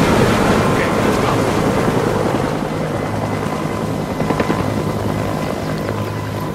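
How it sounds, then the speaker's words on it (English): Helicopters approaching in the video game Sniper Ghost Warrior 3; a continuous rotor thrum and rushing drone hold steady throughout, mid-distance and fairly loud, with a few brief clicks over the top. "Helos? Yeah, sounds like they're coming closer."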